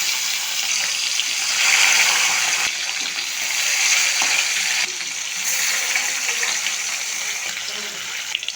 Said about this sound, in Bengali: তেল গরম হয়ে গেছে, একে একে লবণ হলুদ মাখানো মাছগুলি ছেড়ে দেবো।